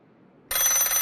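A telephone bell breaks in abruptly after half a second of quiet and rings loudly and continuously to the end, alone with no voices.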